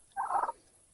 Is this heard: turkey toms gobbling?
yes